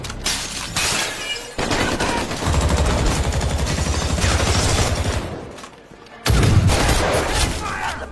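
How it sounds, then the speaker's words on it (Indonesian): Gunfire in a mafia film's siege scene, with a gang firing on people trapped inside a house: sustained loud bursts of shots and impacts run nearly continuously, with a brief lull near the middle and another before a final loud burst. "Yosef CS yang terus menggempur mereka dengan tembakan."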